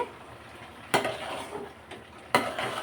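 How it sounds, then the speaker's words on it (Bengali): Bottle gourd is stir-fried with prawns in a pan, giving a low steady sizzle broken by two sharp spatula scrapes and clatters, with no voices. "তো লাউগুলো এখন কষাতে থাক"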